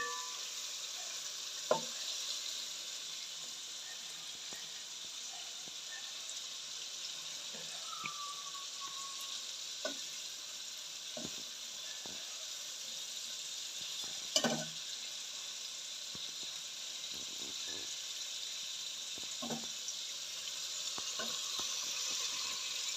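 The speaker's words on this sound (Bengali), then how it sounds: "এটা এরকম ভাজি হতে থাকবে আস্তে আস্তে করে, এবং কড়া ভাজি হয়ে যাবে" Khichuri mixture frying in a pot with a steady, even sizzle, while a spoon stirs it with occasional scrapes and clinks against the metal.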